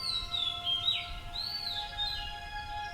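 Cheerful songbirds chirping and tweeting in a garden, several light rising and falling calls overlapping at moderate distance over a faint low background rumble, with no talking.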